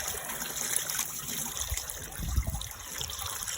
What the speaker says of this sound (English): Let's just flush that out.